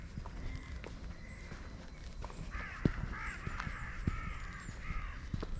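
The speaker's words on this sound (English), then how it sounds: "What's disturbed the crows?" Crows caw repeatedly in Stoke Wood near Chichester, a run of harsh calls at middle distance over soft footsteps on the woodland floor.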